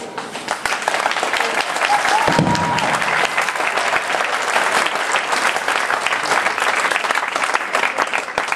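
Sustained audience applause for a comedian in a theatre, a dense, even wash of many hands clapping at steady volume for several seconds with no talk over it.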